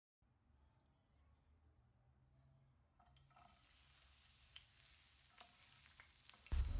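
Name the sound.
frying onions in hot oil in a pan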